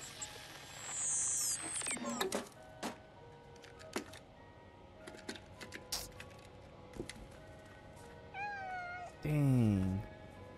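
A cat meows in the PS5 game Stray, a few rising and falling mewing calls near the start and again near the end over quiet ticking game sounds.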